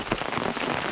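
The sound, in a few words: hail and rain falling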